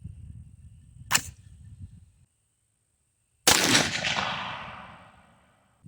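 A 22 TCM rifle with a 12-inch barrel firing a 40 grain VMAX bullet loaded with Accurate TCM powder at 50 yards, one sharp loud shot with a long echoing tail outdoors, preceded by a faint click.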